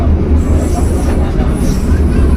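Steady rumbling of a local train on the Siliwangi line between Sukabumi and Bandung, with low rolling hum and faint high squeal, continuous and fairly loud throughout.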